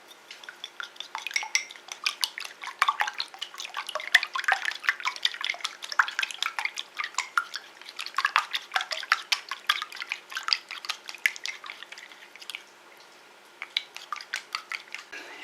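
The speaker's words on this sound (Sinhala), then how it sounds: "ඉන්පසුව අපි බිත්තර තුනට ලුණු ස්වල්පයක් එකතු කරලා ඒ හොඳට බීට් කරගන්නවා" Three eggs with a pinch of salt whisked briskly in a bowl for a Japanese goya chanpuru, a steady run of quick, close clinking and tapping strokes with a short pause near the end.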